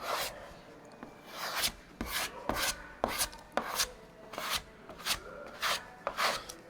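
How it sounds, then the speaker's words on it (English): Hand block sanding of body filler on a truck body: rhythmic rasping strokes, roughly two per second, close and fairly quiet, with no talking. "as I continue block sanding, I'll find more spots that need work"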